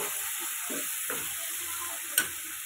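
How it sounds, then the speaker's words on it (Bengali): Coriander and cumin paste fries in a pan for a prawn curry, a soft steady sizzle with faint stirring scrapes and one brief sharp tap of a utensil near the end. "আর ধনে জিরে বাটা দিয়ে একটু নাড়াচাড়া করে নিচ্ছি ভালো করে 1 মিনিট মতো।"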